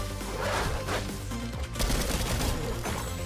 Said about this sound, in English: A lot of gunfire around here.